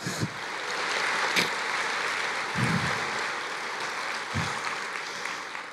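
Church congregation clapping in a broad, sustained wash of applause lasting several seconds, heard from a distance with a few louder thumps scattered through it.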